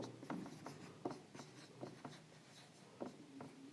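A pen writing out a trigonometry solution for a class 10 maths exercise, with soft scratchy strokes in short irregular bursts, close and quiet with no voice.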